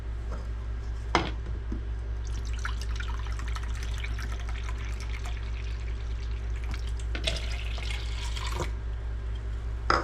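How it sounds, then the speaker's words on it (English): Coconut water pours and trickles into a container in a few uneven bursts, splashing softly close by, with a low background hum and no talking. "we're going to add a cup of coconut water"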